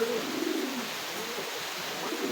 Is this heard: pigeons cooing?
yes